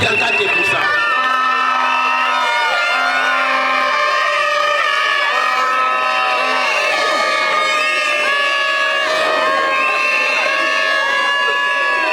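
A school end-of-year ceremony crowd cheers and shouts for a pupil, children's voices whooping over a loud continuous hubbub with a sustained tone running beneath.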